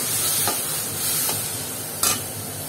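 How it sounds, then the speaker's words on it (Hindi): Green chillies sizzle in a hot pan with a continuous close hiss, broken by three brief scraping strokes of a spatula stirring them. "हरी मिर्च डालेंगे"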